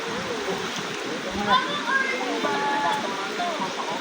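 A flowing stream rushes steadily beside people whose voices and calls rise over the constant water noise.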